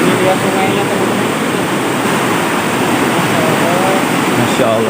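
A large forest river, Sungai Pangguyangan, rushes in a steady loud broadband roar, close and continuous, with faint voices barely showing beneath the water.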